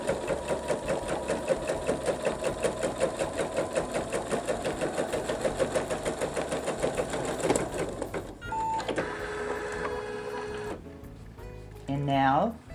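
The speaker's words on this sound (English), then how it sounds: "I'm going to begin to sew" An embroidery sewing machine stitches joined quilt blocks held in the hoop, a fast, even needle rattle that runs for several seconds, then stops and gives way to quieter whirring and a brief mechanical whine.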